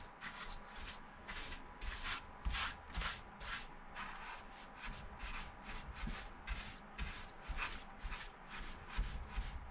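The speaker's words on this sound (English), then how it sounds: "take my trusty dusty paintbrush and just get some of the dirt and grime out of here" Paintbrush bristles scrubbing dirt and grime out of a DBX 15-inch subwoofer, a steady run of close, scratchy rubbing strokes in a quick repeating rhythm, with no talking.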